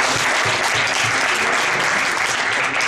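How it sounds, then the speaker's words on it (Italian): Loud, dense audience applause at a conference keynote in Milan, a full hall clapping steadily and evenly from start to finish. "direi un bel applauso a tutti per essere qui."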